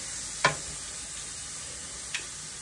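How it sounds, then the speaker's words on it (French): Lamb meat sizzles on a portable gas barbecue grill, giving a quiet, steady hiss broken by two faint, brief ticks. "Alors, on grille la viande."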